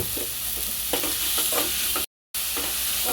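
Onions and green chillies stir-fried in a pan for egg bhurji curry, with a steady close sizzle and a few scraping stirs of the spoon, briefly cut to silence midway.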